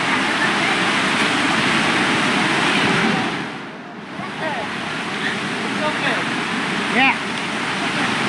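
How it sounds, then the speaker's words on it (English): Steady roaring rush of a waterfall at Sari Ater hot springs in Ciater fills the whole clip, dipping briefly midway, with faint voices and splashes nearby. "Got waterfall behind us."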